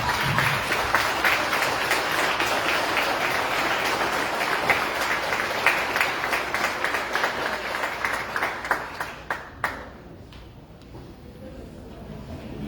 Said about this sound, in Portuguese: Vamos ficar de pé e uma salva de palmas.